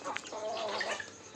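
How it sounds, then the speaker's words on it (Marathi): Domestic hens cluck briefly and softly at close range as they are let out of the house in the morning. "आपल्या कोंबड्या घराच्या बाहेर काढत आहोत मित्रांनो."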